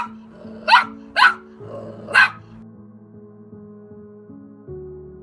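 A small adopted shelter dog barks excitedly on meeting its new family: three sharp, loud barks in quick succession, followed by quieter background tones.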